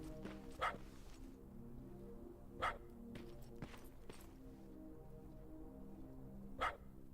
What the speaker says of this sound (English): It sounds like it's a recording of a dog